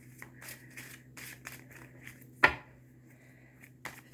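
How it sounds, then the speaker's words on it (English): Tarot cards being shuffled by hand, heard as soft papery riffles and taps in irregular bursts, with one sharper snap partway through; fairly quiet and close, no talking. "I have been shuffling for a minute"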